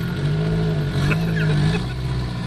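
A tuned, boosted car drives along with its engine pulling steadily and rising in pitch under load, loud and close from inside the cabin, with no talking.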